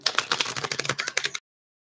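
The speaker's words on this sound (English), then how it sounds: "That's enough shuffling for that one." Tarot cards being shuffled in quick, crisp riffling flutters close by, lasting about a second and a half before stopping abruptly.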